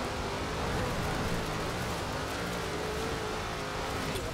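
In Forza Horizon 4's winter festival, a car's engine is held at full throttle, producing a continuous loud drone with a slowly rising tone and no pauses.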